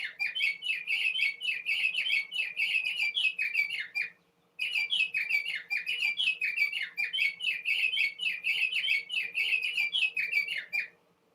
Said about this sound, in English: The bird clock was loud this morning.